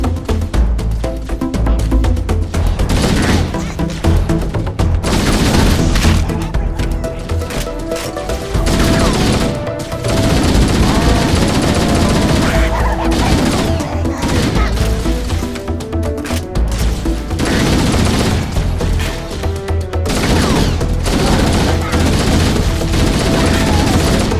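In the Halo Master Chief Collection on Xbox One, gunfire keeps going without a break: loud, dense automatic bursts layered with explosions and game effects. There are also brief shouted voice lines.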